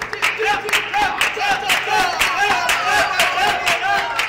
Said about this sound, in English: He's clapping off feet, you can tell it.